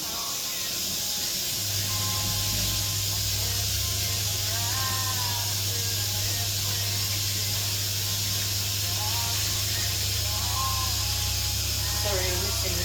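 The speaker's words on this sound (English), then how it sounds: "we're just going to rinse the cloth and get all the moisture away" Running water pours steadily as a cloth is rinsed, a loud continuous hissing rush that fills the whole stretch, with a low hum underneath and faint voices breaking through here and there.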